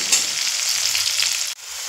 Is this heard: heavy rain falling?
no